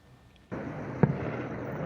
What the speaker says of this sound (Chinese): 夜空当中传出炮声，